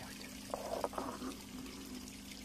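Water is poured into mujdei, a Romanian garlic sauce, making a short, faint trickle and splash in a quiet kitchen.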